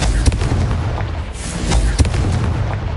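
Confringo blasting spell in Hogwarts Legacy, repeated sharp bursting blasts about every second over a steady booming rumble, loud and close with no talking.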